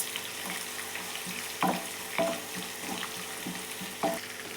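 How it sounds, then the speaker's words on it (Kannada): Onion and three dry red chillies frying in oil in a pan for curd upma, a soft steady sizzle broken by a few sharp clinks and scrapes of stirring. "ಇದನ್ನು ಸ್ವಲ್ಪ ಆನಿಯನ್ ಚೆನ್ನಾಗಿ ಗೋಲ್ಡ್ ಕಲರ್ ಥರ ಫ್ರೈ ಆಗಬೇಕಿದೆ"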